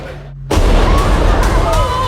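A huge explosion from a scene in the Thunderbolts* film, in which an entire floor of a building is blown up, bursts in suddenly after a quiet lead-in and roars on as a loud, sustained rumble.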